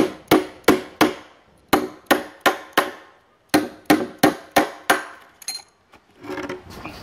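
Sharp hammer blows strike parts into place while a clutch motor is fitted to a leather skiving machine, about fifteen close, loud knocks in uneven bursts with short pauses, followed by faint handling noise.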